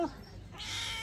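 A brown domestic cat at a relative's house in a Gujarati village gives a short, close meow with a rising breathy tail, heard alone at moderate volume.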